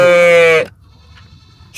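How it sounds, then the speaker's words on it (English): A lamb on a small heritage-village farm gives one loud, close, wavering bleat lasting about half a second, then quiet farm ambience with another sound starting at the end. "Lamb."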